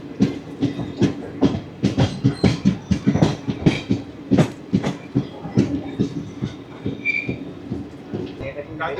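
The Salasar Express pulls out of a station on its Delhi to Jodhpur run, its wheels giving a rhythmic run of rattling clacks and thumps close by, with voices audible in the background.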